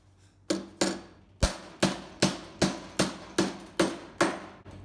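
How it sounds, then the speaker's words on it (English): A hammer strikes a metal quarter panel for a Morgan car restoration, knocking the edge over: about ten sharp, ringing blows at a steady rhythm, close and loud, with no talk. "as I'm striking the panel, I'm kind of moving my hammer that way"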